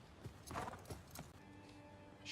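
Horse hooves clip-clop in a Game of Thrones scene, a few soft, uneven thuds at close range, faint and brief under background score.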